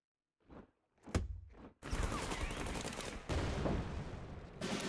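Artillery and gunfire from the card game KARDS: a few short muffled thumps and a sharp crack, then a long dense roar of explosive bombardment, loud and close, in sustained bursts with no talking.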